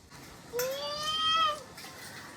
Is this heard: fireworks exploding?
no